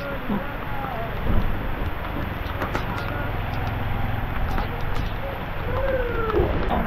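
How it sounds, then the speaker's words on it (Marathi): Rain falls hard in a steady hiss, with faint voices and scattered outdoor noises mixed in underneath. "पाऊस जोरात आलाय"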